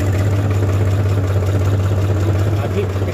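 A new farm tractor's engine drones steadily close by, a loud, even low rumble throughout, with faint voices in the background.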